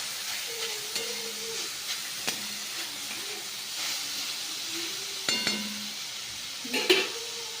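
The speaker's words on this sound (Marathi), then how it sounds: "आता हे दोन मिनटं चांगलं परतून घ्यायचं" Soybean curry sautéing in a pan gives a steady low hiss and sizzle with occasional soft stirring scrapes, close and moderate in level, with no voices.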